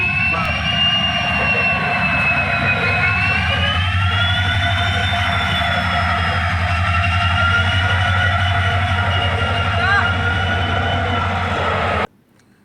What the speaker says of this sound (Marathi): अमरावती पुणे ट्रेन क्रमांक अकरा चारशे सहा या रेल्वेला आत्ता सुरुवात झाली आहे